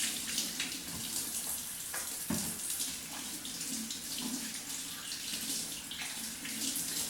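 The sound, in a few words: tap water running while washing hands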